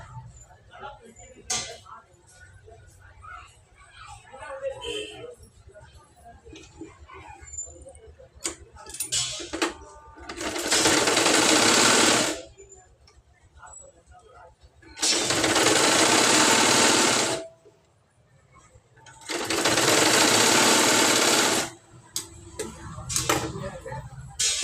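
Sewing machine stitching a cross belt onto a blouse, running in three loud sustained bursts of a few seconds each, separated by pauses with a voice talking quietly in between.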